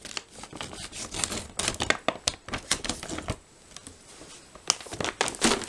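Plastic packaging on a 2023 RationTech 24-hour gourmet ration pack is cut open with scissors, giving close, busy crinkling and snipping with irregular sharp clicks and rustles that pause briefly midway.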